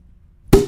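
After a moment of near silence, the top of an aftershave bottle pops open with a single sharp pop close by, followed by a brief tonal ring as it fades.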